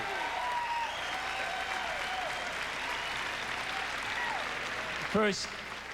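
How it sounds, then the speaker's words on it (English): Steady applause from a large audience fills the whole stretch, with a few voices and whistles rising over the clapping near the end. "See, they applauded more in New York than they did in Las Vegas"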